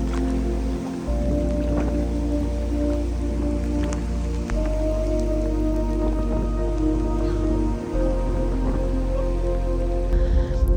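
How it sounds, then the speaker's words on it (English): Rain pours steadily during a cyclone on a remote reef, a dense continuous patter loud and close, with a low rumbling drone beneath and no talk. "The rain kept coming and we had some very minor flooding."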